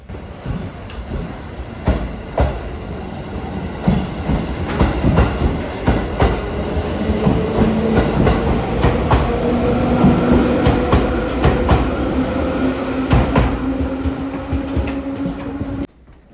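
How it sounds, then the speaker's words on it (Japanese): A JR East Ryomo Line train rolls out of Ashikaga Station, wheels clattering in a steady rhythm with rising tonal whine, loud and close, ending abruptly. "お世話になった列車をお見送り。"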